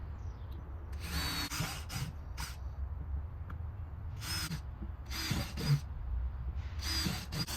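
A power drill bores drainage holes into a painted planter outdoors in a garden, giving several short, fairly faint whirring bursts separated by pauses.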